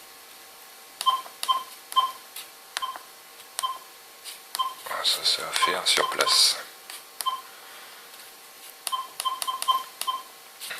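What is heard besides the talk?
E-Trac metal detector tones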